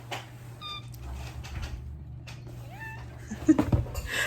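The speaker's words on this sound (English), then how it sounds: "I love that cat." A pet cat gives a couple of short meows close by, one early and one midway, over a steady low household hum with some light handling noise.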